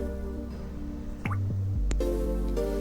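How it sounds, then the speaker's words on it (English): Blended tomato puree splatters and drips into hot butter in a wok, with wet plopping and squishing sounds, close up and without talk. "immediately add in the tomato mixture which we have blended earlier"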